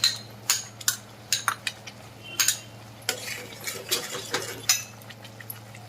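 Ginger-garlic paste being stirred into frying chicken gravy in a pan, a run of sharp scraping and clinking spoon strokes over a soft steady sizzle, close and fairly loud with no talking.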